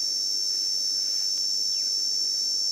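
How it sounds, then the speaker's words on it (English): A cicada shrills steadily from about a meter away at dawn on a southern African safari, a loud continuous high-pitched buzz that holds unbroken throughout with no voices. "And that is the beautiful shrilling noise made by a cicada or cicada."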